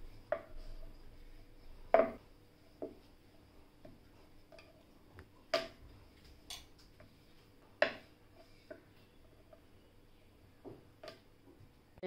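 Rolling pin working cheese garlic paratha dough dusted with flour, giving sparse soft thumps and knocks at irregular intervals, close and fairly quiet, with no talking.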